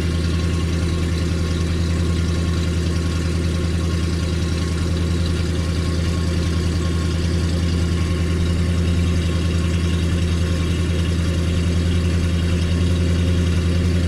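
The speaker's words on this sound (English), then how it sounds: "A nice little throaty growl back here." A 1973 Ford LTD Brougham coupe with a 460 big-block V8 idles fast after a cold start, its exhaust giving a steady, deep, throaty rumble close by without a break.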